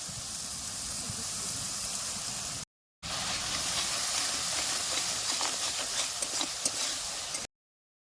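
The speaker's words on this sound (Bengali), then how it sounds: "তরকারির ঝোলটা ভালো মতোই ফুটে গেছে" Fish curry gravy with lemon juice boils vigorously in a pot over a village fire, a continuous hissing, bubbling rush broken by a brief gap, with faint pops toward the end and no talk.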